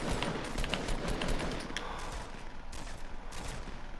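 Shotgun blasts in a Fortnite Battle Royale squad fight, a rapid cluster of loud sharp shots over the first second and a half, then scattered further bursts against steady in-game noise.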